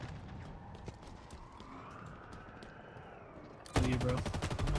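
Rapid assault rifle fire in Halo Infinite cuts in loudly near the end as a dense burst, after a steady low game ambience.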